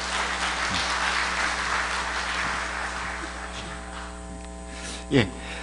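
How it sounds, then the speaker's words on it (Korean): At a symposium on local administrative systems, audience applause rises as a broad wash of clapping over a steady electrical hum, then gradually fades away toward the end. "화성시 발전을 위해 주제 발표를 해주신 최인석 시장님께 다시 한번 큰 박수 부탁드리겠습니다."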